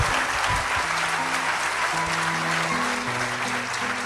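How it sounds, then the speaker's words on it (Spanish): Steady, dense applause from a live audience at a show, continuing throughout at even loudness, with a low tonal hum underneath. "Un aplauso."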